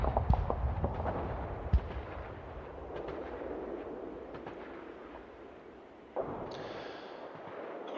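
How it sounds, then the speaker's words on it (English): Artillery barrage in the Panzer Leader tank game set in the Ardennes: a dense rumble of distant booms and sharp cracks over the first seconds, then a steady low roar that fades and picks up again near the end. "Okay, German artillery is called in."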